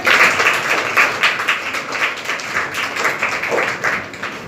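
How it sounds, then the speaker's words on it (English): Children in an Urdu-medium primary school classroom in Palghar applaud themselves, a lively burst of many small hands clapping rapidly and unevenly, close and fairly loud, tapering slightly toward the end. "Clap for yourself."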